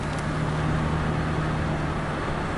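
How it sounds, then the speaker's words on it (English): A car engine restarting through its start-stop system after the brake pedal is released at a stop sign, a steady low idle hum running close and continuous beneath road noise. "This car starting back up because I let off the brake pedal."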